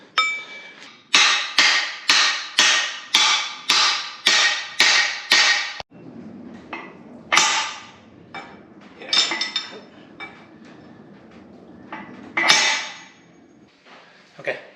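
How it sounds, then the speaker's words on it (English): Metal hammer pounding wheel studs into a trailer axle hub, a rapid run of about eight loud ringing strikes, then sparser, irregular clanks and taps up close. "But yeah, so just pound these in."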